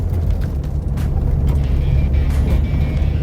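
Steady low road rumble from inside a moving Bentley Continental GT on a potholed road, with occasional soft thumps and bumps from the uneven surface, no talking.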